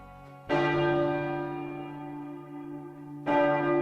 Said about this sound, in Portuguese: o imenso sino de metal começava a se mover